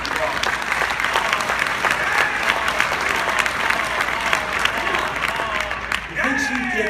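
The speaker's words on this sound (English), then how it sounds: "Give her a huge round of applause." Applause from an audience of about 600 at a real estate conference in Orlando, a dense, sustained clapping from a large crowd with scattered cheers that fades slightly near the end.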